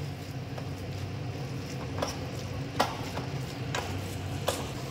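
Boiled beetroot and carrot being stirred and mashed in a pan, soft wet squishing with a few sharp taps of the utensil against the pan over a steady low background hiss.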